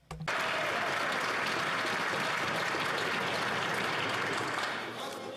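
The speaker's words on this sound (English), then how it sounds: "the Prime Minister got so much applause" Strong applause in the House of Commons for the Prime Minister, bursting in abruptly after a brief voice and holding as steady, dense desk-side clapping before easing slightly at the end.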